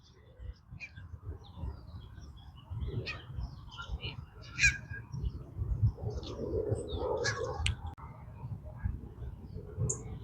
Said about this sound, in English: I found the ducks that I heard.